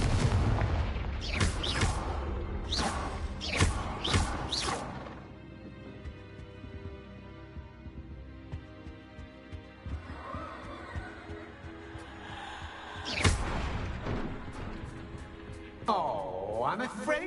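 Fiery Confringo spell blasts go off in the Hogwarts Legacy video game, a quick cluster of loud, booming explosive bursts followed by rumbling game ambience, a later blast and a whooshing effect, with a voice speaking over parts of it.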